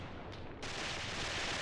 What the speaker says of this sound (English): Bunch of grenades.